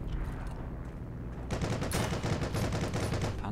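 Rapid bursts of gunfire in the video game Heroes & Generals crackle loudly and continuously, dense and overlapping, after a brief quieter lead-in with low rumbling.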